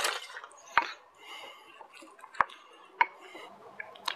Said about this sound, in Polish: I teraz to musimy wszystko dokładnie wymieszać.